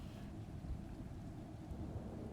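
Heavy rain with distant rumbling thunder from a storm effect in the video game Othercide, a dense steady wash of rainfall with low rolling booms, fairly quiet and without speech.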